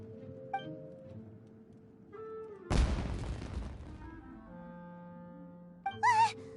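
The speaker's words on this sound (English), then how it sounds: "It sounded like fireworks." Fireworks go off in the video game Genshin Impact with a sudden loud crackling burst that fades into a hiss over soft sustained game music tones, followed later by a brief bright whistling chime.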